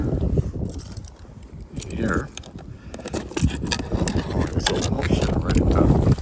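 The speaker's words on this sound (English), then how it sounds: "turns out it's a little windy" Gusty wind buffets a phone microphone with low rumbling bursts while a person talks over it close by.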